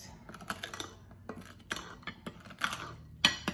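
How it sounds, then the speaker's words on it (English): A spoon is worked through strawberry cake batter in a bowl, making an irregular run of quick clinks and soft scrapes against the bowl, close and fairly light. "I'm going to switch to my spoon because I don't want to over whisk it"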